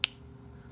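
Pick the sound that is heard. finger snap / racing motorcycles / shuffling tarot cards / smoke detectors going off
finger snap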